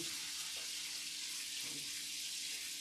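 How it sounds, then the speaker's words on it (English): Shrimp for shrimp scampi fry in a pan, giving a faint, steady hiss of sizzling throughout with no voices. "I'm going to add in my shrimp. Get my shrimp going."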